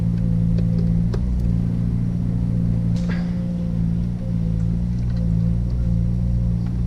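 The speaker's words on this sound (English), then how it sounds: "Outdoor blower low." Outdoor blower of a Coleman Mach basement air conditioner on a Winnebago RV, running on its low setting: a steady, loud low hum and drone that holds evenly throughout, with faint ticks and a brief higher whoosh partway through.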